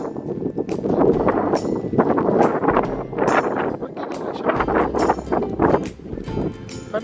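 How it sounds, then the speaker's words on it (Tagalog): Strong wind buffets the microphone outdoors at a cold fishing spot in Canada, with loud, gusting rumbles that swell and fade continuously throughout. "Sa lakas ng hangin."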